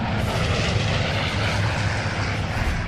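Engines of a B-17 bomber in flight, its right outer engine on fire, drone in a steady, loud, continuous roar throughout.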